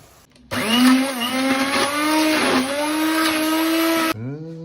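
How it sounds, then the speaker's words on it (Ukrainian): A blender whirs loudly at high speed for about four seconds, a steady whining motor churning cooked courgettes into a thick purée, then cuts off and spins down. "Я її збив блендером."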